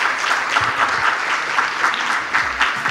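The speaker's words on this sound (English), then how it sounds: "a round of applause for Professor Michael Porter" Audience applause for Professor Michael Porter after a question-and-answer session on progress, a steady dense crowd clapping at moderate level throughout, without speech.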